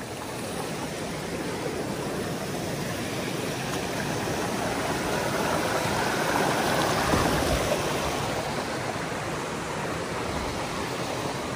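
A mountain stream flows beside an abandoned village, giving a steady, broad rushing and babbling wash that swells slightly toward the middle and continues alone without voices.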